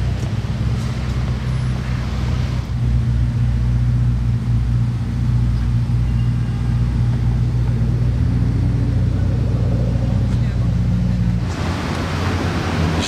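A large Rolls-Royce passes on the streets of Monaco, heard as a loud, continuous low rumble of engine and road noise that swells and thins again near the end, with no talking.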